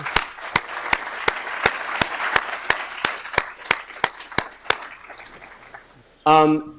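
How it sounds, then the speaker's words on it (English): Applause at a clean energy conference's opening session: sharp, evenly spaced claps ring out near the microphone over softer crowd clapping, thinning out toward the end before a brief burst of voice. "A little round of applause for the people who helped make this work."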